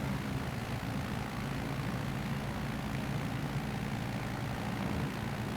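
A small propeller plane's engine drones steadily in Microsoft Flight Simulator near the Eiffel Tower, a dense, even hum with no talk.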